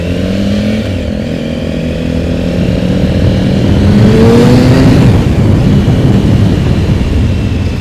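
A 1050cc three-cylinder Triumph Speed Triple motorcycle accelerates on a Tokyo street, its engine pitch rising over rushing wind noise and building to a loud peak before settling, close and without talk.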